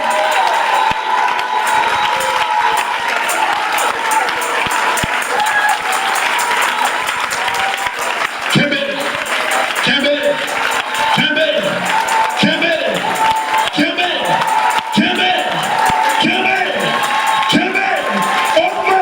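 Church congregation bursts into loud, sustained applause and cheering, a dense wash of clapping and shouts filling the space, with voices calling out over the crowd throughout.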